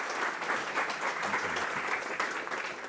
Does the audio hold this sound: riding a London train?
no